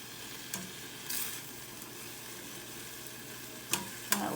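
Carrots stir-fry in sauce in a pan with a steady low sizzle broken by a few sharp scrapes and stirring knocks, no talking.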